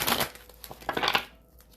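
A deck of angel oracle cards is shuffled by hand, producing a few quick papery riffling bursts close to the microphone before trailing off into quiet.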